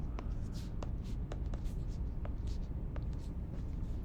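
Chalk or marker scratches and taps across a board in a topology lecture, a steady series of short strokes at moderate distance, fairly faint and without talk.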